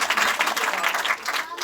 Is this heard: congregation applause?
yes